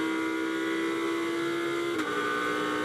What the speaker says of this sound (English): Pulling through the revs, sweet gear shifts, all nice